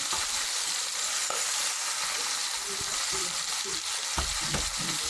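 Chopped onion sizzles steadily in a pan alongside pieces of rabbit, with a constant hiss and occasional scrapes and stirring knocks throughout.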